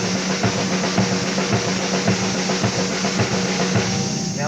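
A drum kit at a live drum clinic plays a steady fill of sixteenth notes grouped in fours, with evenly spaced accents over a dense, roomy wash of drums and cymbals.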